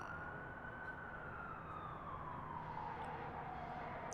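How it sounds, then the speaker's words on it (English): A distant emergency vehicle siren wails in a gritty 1990s New York city soundscape, a slowly falling tone drifting over steady low traffic rumble, fairly faint throughout. "Sirens"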